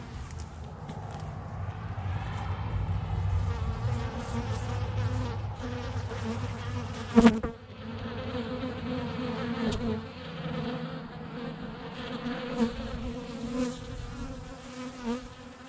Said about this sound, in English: check the bee box. There's been quite a few flying in and out